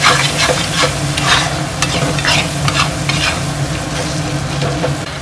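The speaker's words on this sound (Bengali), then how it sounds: "টমেটো আর লঙ্কাটা দিয়ে ভালো করে আমি ভেজে নেব।" Tomato and chili masala fries in a pan for an egg tadka, a loud continuous sizzle broken by repeated scraping strokes of stirring, with no voices.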